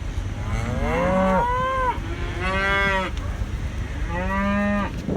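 Cattle on a ranch pasture give three long, loud moos in close succession, one after another, over a steady outdoor background.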